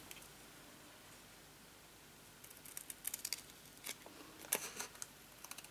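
Scissors snipping a thick strip off a sheet of mini dimensionals, with a handful of faint, crisp cuts and rustles close by in a quiet room.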